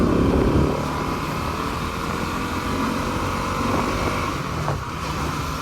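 A 2024 Bajaj Pulsar NS200 motorcycle's engine and exhaust while riding, a loud continuous droning hum with wind rush, fairly steady throughout and heard alone without talk.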